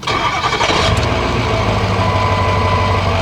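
A Ford 6.0L Powerstroke diesel truck engine cranks briefly, then catches and settles into a loud, steady rumbling idle close by.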